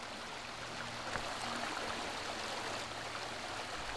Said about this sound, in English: We're right near the Millbrook now.